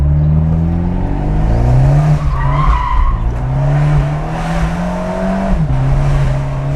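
A car engine revs hard as tires squeal in a drawn-out skid, the exhaust note swelling and dipping through the slide, loud and close.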